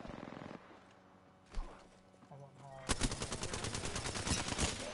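Apex Legends gunfire: a short burst at first, a lull with a couple of isolated shots, then sustained rapid automatic fire with dense repeated cracks, loud and close.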